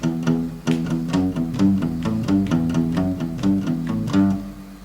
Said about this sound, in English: Another thing you can do is do a little bit of palm muting.